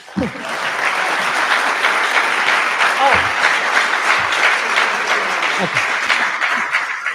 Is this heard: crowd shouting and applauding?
yes